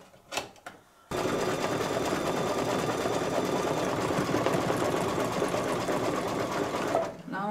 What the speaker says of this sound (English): This is going to stitch down just great.